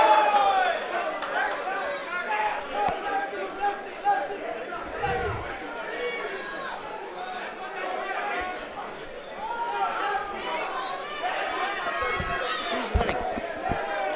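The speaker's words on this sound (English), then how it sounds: "A raucous crowd here at Sony Hall." A raucous boxing crowd at Sony Hall fills the air with dense chatter and shouting, rising and falling continuously, with commentary voices heard over the noise.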